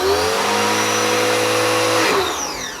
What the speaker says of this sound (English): This pressure washer sounds really bad when it's plugged in this type of setup.